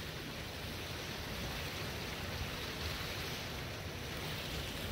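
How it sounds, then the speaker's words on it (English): A river flows steadily at night in downtown Red Deer, Alberta, a continuous broadband rush of moving water, even and fairly faint, with no voices over it. "Check out that river."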